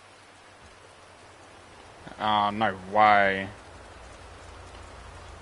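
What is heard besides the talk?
rain falling in GTA 5 video game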